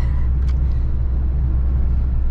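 A Citroen XM 2.1 TD diesel car, 109 hp, cruising in fifth gear, heard from inside the cabin as a steady, loud low engine drone and road rumble that holds throughout.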